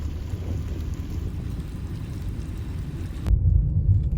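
Rain falls steadily on a street in Kandahar, a dense low hiss with a deeper rumbling wash that swells louder near the end, with no voices.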